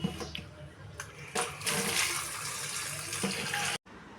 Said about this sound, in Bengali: জল দিয়ে ভিজাই আর কি এখন জলে ভিজিয়ে রাখবো